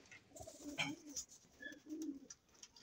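Pigeons coo softly in low, throaty phrases, several calls repeating close by in a quiet loft with faint chirps.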